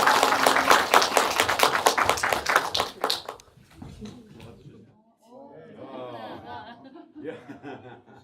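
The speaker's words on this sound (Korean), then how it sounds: "네 분께 다시 한번 큰 박수 드리면서 감사합니다" Applause breaks out at a post-screening audience talk for the film 파업전야, shown at a formal release thirty years after it was made. Dense clapping fills the first three seconds, then thins to scattered claps mixed with low chatter and light laughter.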